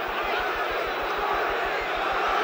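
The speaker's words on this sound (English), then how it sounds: "cheering for Ali." A boxing arena crowd at the Ali–Norton heavyweight fight roars in a sustained, dense wash of cheering and shouting, loud and continuous throughout.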